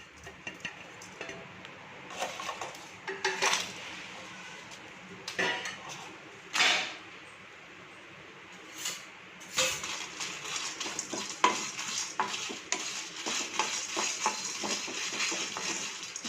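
Whole spices for Chettinad chicken chukka dry roast in a pan over low heat, with scattered scrapes and clinks of a spatula against the metal. Soft crackling comes between the strokes in a quiet kitchen.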